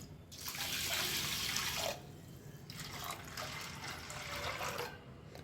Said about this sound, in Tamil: இப்போ வந்துட்டு தண்ணி ஊற்றிக்கலாம்